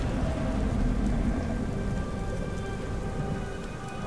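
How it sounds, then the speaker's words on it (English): Steady rain pours down in the Beyond Two Souls video game on PS3, a dense continuous patter on surfaces with a low rumbling undertone, heard alone without speech. "God damn rain."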